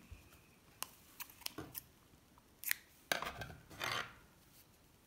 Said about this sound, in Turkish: İpi kesiyorum.